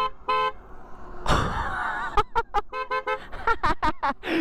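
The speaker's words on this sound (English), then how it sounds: "it sounds like a train horn" Horn of an 80 mph electric scooter, loud like a train horn: one short honk, then a noisy burst, then a quick run of loud, close, sharp blasts.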